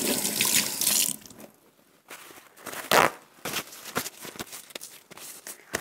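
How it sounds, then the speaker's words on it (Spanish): Tap water runs loudly over hands being washed at a kitchen sink while cooking a Moroccan meatball and pea tajine, a close rushing gush for about a second, then the flow stops and scattered clinks, drips and handling sounds follow. "Voy a limpiar primero las manos."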